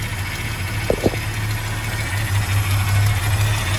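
A 1978 Chevy C10 truck's inline-six engine idles steadily with a low, even rumble, close by, with a couple of brief knocks early on and no talking.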